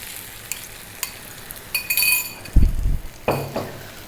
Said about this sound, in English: we're going to just cook these eggs in there, mixing away